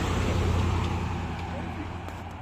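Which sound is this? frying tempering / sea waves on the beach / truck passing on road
truck passing on road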